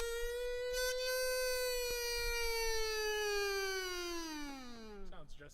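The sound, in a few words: kazoo imitating a siren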